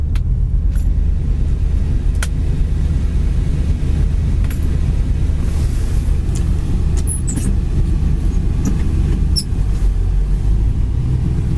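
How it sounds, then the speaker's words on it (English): A 1968 Ford Galaxie's engine idles steadily, a loud, continuous low rumble that holds close and unbroken, with faint clicks and light rattles on top and no talking. "Car really idles nice, idles down nicely."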